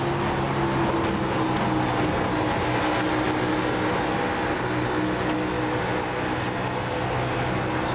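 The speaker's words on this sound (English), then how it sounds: "let's listen to his throttle 1 and 2" A race car engine in the iRacing video game drones steadily at Texas Motor Speedway while the driver lifts off the throttle in the corner, a continuous, fairly loud mechanical roar with no talk.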